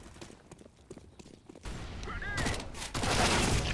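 Counter-Strike gunfire in a competitive match, a spread of sharp shots and rattling bursts that grow louder and denser toward the end, with game noise and a faint voice underneath.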